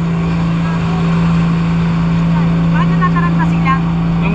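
A boat motor drones loud and steady while out island hopping off Boracay in rough waves, with people talking over the constant engine noise.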